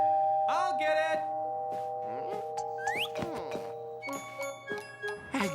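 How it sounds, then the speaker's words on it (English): A doorbell chimes with bright, sustained electronic tones, several ringing notes layered together, with a voice speaking briefly over it. "This is the dangerous part where I push the doorbell."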